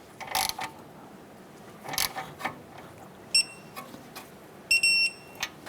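A torque wrench tightens an outer tie rod nut on a Honda Accord, giving two sharp metallic clicks, with scattered ratcheting and handling noises between them, close and fairly quiet.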